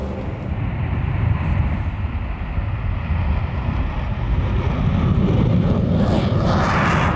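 An airplane in flight, heard as a steady, loud, low engine drone with rushing air noise that swells slightly toward the end. No voices.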